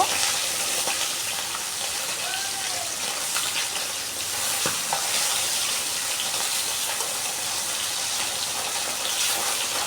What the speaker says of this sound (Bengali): এপিট ওপিট করে দুই পিঠই ভালো করে লাল করে ভেজে নিব।